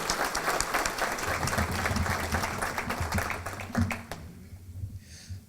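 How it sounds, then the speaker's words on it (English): Audience applause at a school district evening event following a chamber orchestra performance, a steady wash of many hands clapping that carries on throughout, with a faint low murmur beneath and tapering toward the end. "Let's give them one more round of applause"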